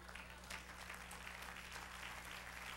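Faint, continuous congregation applause in a church service, a soft wash of clapping with a low hum beneath and no voice on top.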